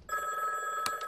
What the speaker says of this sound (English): It's been calling all night. Just unplug the phone.